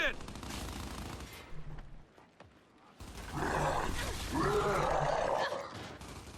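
Enemy gunfire in the Gears 5 video game crackles in bursts, loudest across the second half, mixed with game roars and clatter while a player talks.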